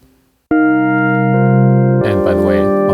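Dry mono synth tone from Arturia's DX7 plugin: a sustained harmonic chord starts abruptly after a brief quiet lead-in, holds steadily, then shifts into a busier, brighter passage near the end, loud and alone.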